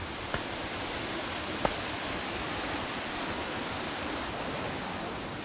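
Steady, dense rushing water roars continuously, a loud broadband wash with a couple of faint clicks, easing slightly near the end.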